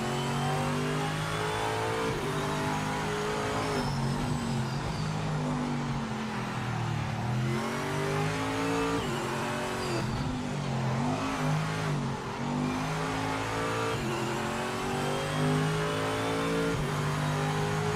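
Race car engine in Project Motor Racing, a loud, continuous close-up drone that rises and falls through gear changes and revs for the whole stretch, with brief dips where it lifts off the throttle.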